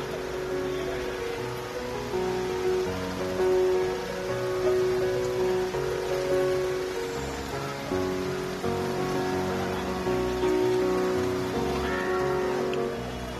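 Heavy monsoon rain falls in Mumbai during the season's first downpour, with waterlogged low-lying streets and traffic. A steady, dense hiss of rain runs continuously throughout with no talk.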